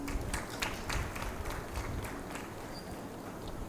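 An audience at a national corporate conference claps together, a steady, somewhat distant patter of applause filling the hall.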